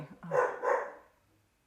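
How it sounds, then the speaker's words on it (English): A dog gives two quick, close barks in succession, fairly loud against a quiet indoor room, then falls silent; someone briefly exclaims beforehand. "Sorry about the dog."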